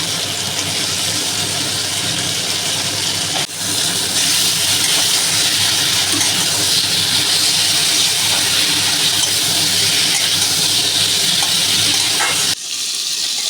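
Spice paste of chili, cumin, tomato paste and turmeric frying in a pan, giving a loud, steady, dense hiss that drops briefly twice before surging back.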